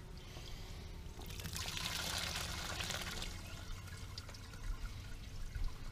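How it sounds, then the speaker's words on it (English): Melted beeswax poured through a colander with slum gum and cocoon casings, giving a soft, close trickling and splashing that swells for a couple of seconds, then thins to dribbling. "pour some more wax in"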